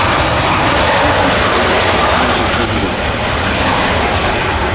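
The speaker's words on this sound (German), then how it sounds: "The decision to fit this aircraft with a pair of turbojets." An Antonov An-178 transport aircraft with a pair of turbojets flies by, its engines producing a loud, steady, broadband roar that fills the whole clip without any voices.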